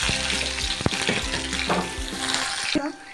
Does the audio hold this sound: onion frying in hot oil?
yes